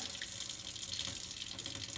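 Tap water runs steadily into a cup in a home kitchen while turkey neck bones and gravy are being cooked, a continuous close splashing hiss with no talking.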